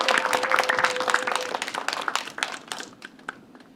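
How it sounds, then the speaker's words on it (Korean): Audience applause at a disability human rights lecture, dense clapping that thins into scattered individual claps as it fades out. "여러분들 다시 박수 한번 부탁드리겠습니다"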